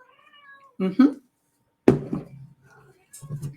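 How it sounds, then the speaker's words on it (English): A domestic cat meows twice near the microphone, two short separate calls with a quiet pause between them, then a brief third sound, in a quiet room while someone paints. "Cat says that"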